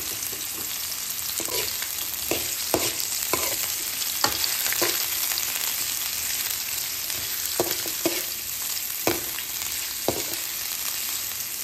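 Onion and chili fry in a pan for fish adobo, giving a steady close sizzle with scattered sharp clicks and scrapes from stirring throughout.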